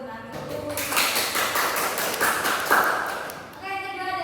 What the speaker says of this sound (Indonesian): Tepuk tangan dulu buat Mbak Ami